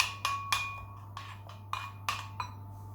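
Cream fraîche and herbs being stirred in a bowl, giving about eight light, sharp clinks and scrapes of a spoon against the bowl at an uneven pace, quiet over a low steady hum.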